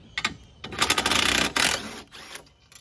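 A ratchet wrench loosens 14mm bolts on a post-hole digger, a close run of quick clicking bursts, pausing and resuming in short stretches, with no voices.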